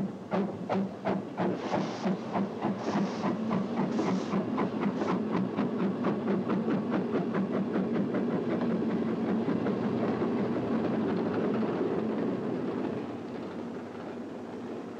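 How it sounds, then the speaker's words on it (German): Steam train sound effect for a radio play: rhythmic chuffing that starts in separate puffs and quickens into a steady, loud chugging with clattering wheels, easing off near the end. "bald steigt der Sebastian mit der Eisenbahn und die pfuset davon."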